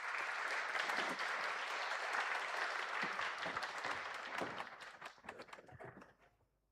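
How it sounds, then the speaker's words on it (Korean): Church congregation applauding to welcome a missionary at a Sunday service in a Paris Presbyterian church, a dense sustained clapping that thins into scattered claps and fades out at the end. "우리 다시 한번 박수로 우리 선교사님 환영하도록 하겠습니다"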